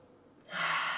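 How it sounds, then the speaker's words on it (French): Deep inhalation during a leg stretching and flexibility exercise: a single close breath that starts quietly and swells into a loud, airy intake lasting about half a second. "on prend une ou 2 respirations"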